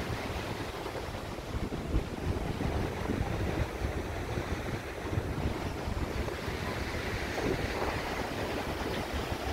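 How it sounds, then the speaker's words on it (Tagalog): Strong sea waves surge and wash onto a beach along a seaside walkway in Kuwait, a continuous rushing surf mixed with gusty wind noise on the microphone, with no talking. "Grabe yung alon, lakas, parang madala ka na sa niya, sa daloy ng tubig"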